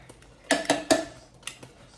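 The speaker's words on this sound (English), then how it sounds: "So I'm just putting that back in, and I'm going to stir it" A utensil knocks and clinks a few times against a crockpot while Korean beef with sesame seeds and green onions is stirred. Three close, sharp taps come in quick succession and are followed by softer ones.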